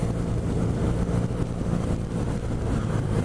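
A 2017 BMW R nineT Pure motorcycle with a boxer engine runs with a steady, throaty low rumble, continuous and fairly close, with no talking.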